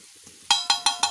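A spoon strikes a frying pan four times in a quick, even rhythm while chowmein is stirred, each metallic clink ringing out briefly, close and loud, with no talk.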